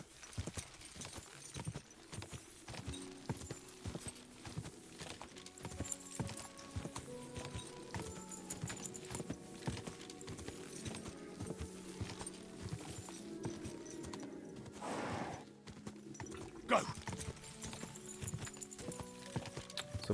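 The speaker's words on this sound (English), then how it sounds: "There's a bunch of people on horseback over here." Horse hooves clip-clop in the video game Kingdom Come Deliverance II, a quiet, steady walking rhythm under game music and ambience, with a brief whinny-like burst near the end.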